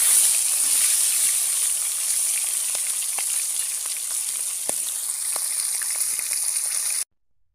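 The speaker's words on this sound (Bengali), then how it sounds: "এখন মাথা ভেজে নেব।" A fish head from a rohu sizzles steadily in hot oil, a dense, even frying hiss with scattered pops and crackles running for about seven seconds before cutting off abruptly.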